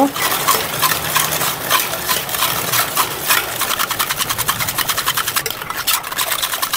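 Agar agar powder and sugar are stirred briskly for homemade jello, making a steady, fast rhythmic scraping and clinking of a spoon against a bowl that runs continuously and loud throughout.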